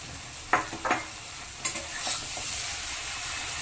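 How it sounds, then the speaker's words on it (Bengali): Prawns sautéing in a pan with a pumpkin and potato curry: a few quick spatula scrapes and stirs sound over a soft, steady background sizzle. "চিংড়ি মাছটা দেওয়ার পরে আরও 2-3 মিনিট ভালো করে কষে নেব"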